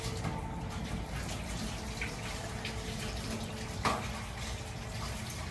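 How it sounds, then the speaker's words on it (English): Running water pours steadily from a tap as alligator gar meat is rinsed, a constant close splashing hiss with one brief louder splash near the end. "You want to rinse it really well."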